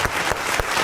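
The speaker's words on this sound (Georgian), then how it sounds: "ეს უკვე აპლოდისმენტები შეგვეგობრებო." Studio audience applause on a Georgian television show: a brief burst of dense clapping, fairly loud and close, with no voices over it.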